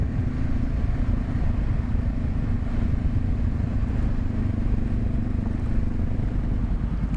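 A Honda CB500F motorcycle is ridden with a steady, loud engine drone and road and wind noise, continuous and close throughout.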